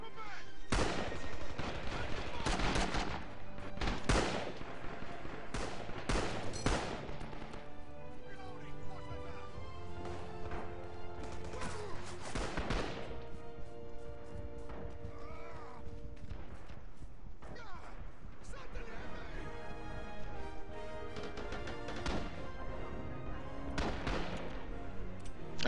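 Heavy gunfire fills a Rising Storm 2 battle, with dense bursts of rifle and machine-gun shots cracking repeatedly over a constant din of combat. Players talk over the shooting.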